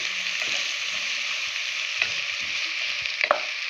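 Onions frying in a generous pool of hot oil for a Kerala-style crab curry, a steady broadband sizzle throughout with a few brief stirring clicks and scrapes, close and alone with no talking.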